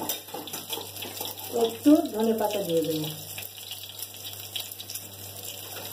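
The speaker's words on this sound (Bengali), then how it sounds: "একটু জল দিয়ে দিলাম" Water is poured into a simmering curry, giving a splashing, gushing flow that swells briefly and then settles, while someone speaks over it.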